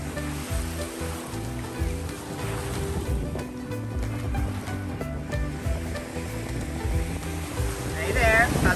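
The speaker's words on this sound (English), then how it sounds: "Ocean." Ocean waves at the beach, a continuous hissing surf wash with a low rumble, fairly close, with some voices and movement underneath.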